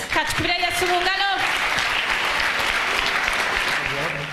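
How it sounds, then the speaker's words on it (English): Church congregation clapping during a prophetic service, continuous energetic applause that fills the room, with a preacher's voice shouting over the opening and again briefly near the end. "Clap for Jesus."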